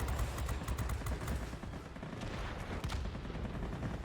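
Aircraft guns fire in the World of Warplanes video game: a dense, continuous rattle of rapid machine-gun bursts that runs steadily throughout, loud and close over a rumbling engine drone.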